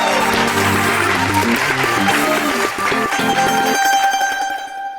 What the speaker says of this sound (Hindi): सॉरी, तालियां।